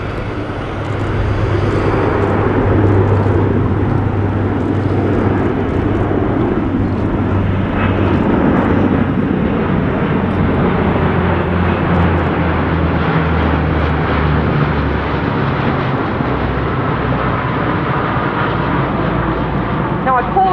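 A loud RNZAF heavy military aircraft roar passes overhead at an air show, a broad rushing rumble that swells and slowly fades, with a low engine drone underneath.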